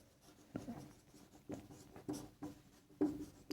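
Writing on a board during a maths lesson on surface area and volume, a series of short scratchy strokes in irregular bursts, close and fairly quiet, with no speech over them.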